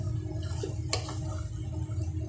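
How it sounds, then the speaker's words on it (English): Close, quiet scrape and clink of a spoon stirring pasta into tuna pasta sauce in a pan, with a low steady background hum and one brief brighter clatter. "And mix it."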